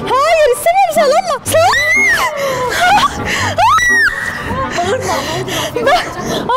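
A child screams and wails in an entertainment center at night, loud rising and falling cries mixed with other voices talking and chattering close by.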